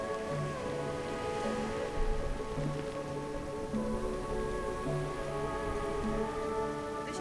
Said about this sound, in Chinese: 雨点落喺我身上，啪啪啪